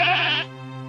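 A cartoon goat whose leg has just been broken by a yanked rope lets out one short, loud, pained bleat that cuts off into a lingering low hum, with no talking.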